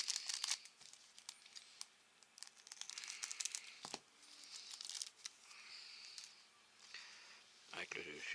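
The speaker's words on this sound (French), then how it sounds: "Donc on va ouvrir le dernier paquet." Crinkly foil wrapping of a Panini Adrenalyn XL football card packet being torn and crumpled open, with repeated bursts of rustling and tearing, close and fairly quiet.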